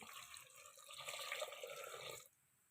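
Water pours steadily into a pressure cooker for about two seconds, then cuts off abruptly into quiet.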